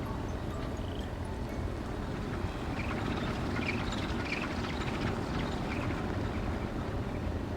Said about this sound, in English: And there goes the train.